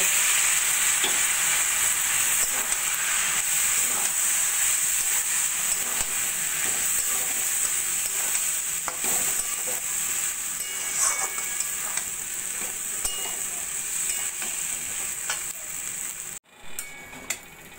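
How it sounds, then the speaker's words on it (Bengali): Broken wheat sizzles and crackles steadily in a hot pan, with occasional scraping and stirring sounds, continuous and close up, with a brief pause near the end. "সেই ডালিয়াটা দিয়ে ভালো করে কষিয়ে নেব"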